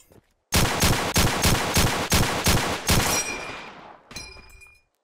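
A gun in Blade and Sorcery Nomad emptied in about eight quick, loud, evenly spaced shots, each with a sharp crack and short ring, then a brief clatter and fading echo.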